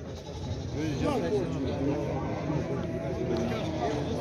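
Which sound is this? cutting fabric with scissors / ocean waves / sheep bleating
sheep bleating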